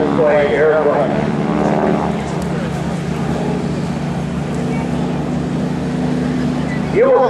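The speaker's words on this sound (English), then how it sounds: "as he demonstrates the World War II T-6 Texan" A World War II T-6 Texan propeller airplane flies at an air show, its loud, continuous droning roar filling the scene while an announcer talks over it.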